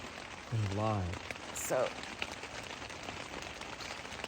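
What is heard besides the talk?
rain falling on a windy morning while camping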